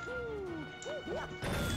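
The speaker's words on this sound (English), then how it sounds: "Why would smashing that log spawn enemies?" A log gets smashed in Super Mario Galaxy, a sharp crash with a cracking whack bursting in near the end after playful sliding game sound effects and background music.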